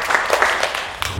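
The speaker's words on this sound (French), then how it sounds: "On peut applaudir." Applause from a small audience at a children's contest, a short burst of clapping that stays fairly steady at moderate loudness with a few sharper hand claps.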